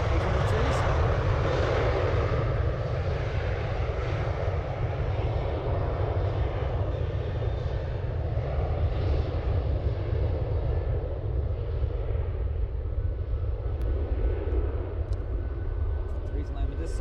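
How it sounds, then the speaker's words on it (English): Ryanair Boeing 737-800 departing Dublin Airport, a long continuous jet rumble that is strong at first and slowly recedes, with someone talking over it throughout. "So another Ryanair departing."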